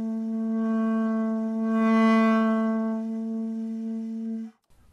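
A single sustained saxophone tone held for about four and a half seconds, its loudness swelling and sagging unevenly before it cuts off, played alone.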